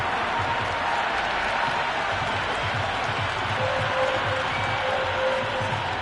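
A cricket crowd in the video game Cricket 26 keeps up a steady, noisy roar of cheering and clapping throughout, a dense wash of stadium noise with no single voice standing out.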